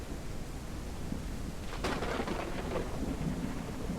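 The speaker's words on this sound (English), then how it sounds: "it rains way too frequently" Rain pours steadily in the Ranch Simulator video game, an early access title, as a sharp crack of thunder breaks through and rumbles on under the constant hiss of the storm.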